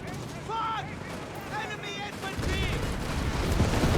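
A Company of Heroes 3 battle between Wehrmacht and US forces, with automatic weapons firing amid a rumbling, noisy combat bed that grows louder, while a caster talks over it.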